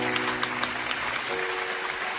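Steady applause runs throughout at an even level on a Caribbean talk show, with light taps rising above a continuous wash of clapping.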